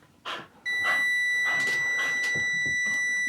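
A metal detector held near AC wiring gives a steady, loud electronic tone that starts abruptly and holds continuously after a short, faint burst at the start.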